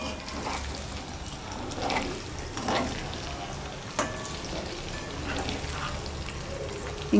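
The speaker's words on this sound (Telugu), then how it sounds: "ఇలా వచ్చేంత వరకు వేయించుకోవాలండి కాకరకాయలని" Bitter gourd pieces fry in a pan with a continuous close crackling sizzle, and swells and soft scrapes come through as they are stirred.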